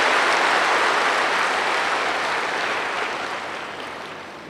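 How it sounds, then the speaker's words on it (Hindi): An audience at a spiritual gathering claps together in a sustained, dense round of applause that slowly fades toward the end, with no speech over it. "खुश होकर के जरा ताली बजाओ फिर"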